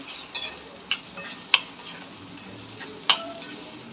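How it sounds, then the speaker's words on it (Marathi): Garam masala being mixed into a cowpea curry in a pan, with several sharp spoon taps and scrapes against the metal at uneven intervals over a quiet, faint sizzle. "आणि थोडासा गरम मसाला। आणि छान प्रकारे मिक्स करून घेऊ।"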